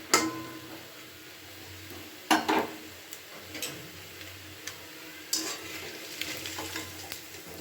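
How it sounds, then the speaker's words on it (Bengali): Radish and shrimp fritters fry in hot oil as a second batch, giving a steady low sizzle with scattered sharp ticks and a few louder clinks of a utensil against the pan, close and with no talk. "এবারে দ্বিতীয় ব্যাচে আমি সমস্ত বড়াগুলো ভেজে নিচ্ছি"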